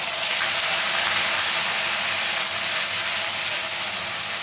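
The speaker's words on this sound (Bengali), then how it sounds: "এখন আমি মশলাটা ঢেলে দেবো।" Spice mix with garlic, ginger, onion, garam masala, cardamom, cinnamon and cloves goes into a hot pan with tomato, giving a loud, steady close-up sizzling hiss that continues without pause.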